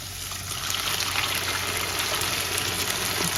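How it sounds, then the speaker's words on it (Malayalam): Ground amaranth-greens paste goes into hot ghee in a pan for drumstick-flower soup, giving a steady, even hiss that swells after a brief start and holds at moderate loudness with no talk. "അപ്പം ഇനി അതിലേക്ക് നമ്മൾ ഈ അരച്ച് വെച്ചത് ഒഴിക്കണേ"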